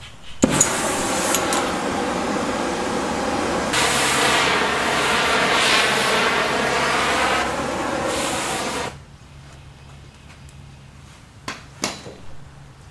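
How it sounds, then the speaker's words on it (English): Rapid metallic hammer blows on a heated steel rod ring out in a dense, continuous clatter for several seconds, then stop, followed by a few isolated sharp strikes. "even if I hammer it down"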